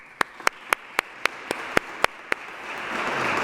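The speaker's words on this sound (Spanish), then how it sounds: "Un aplauso para ellos." Audience applause at a book presentation held in a chapel: about ten sharp, evenly spaced claps in a steady slow rhythm, fairly close, ending as a soft hiss of room noise swells.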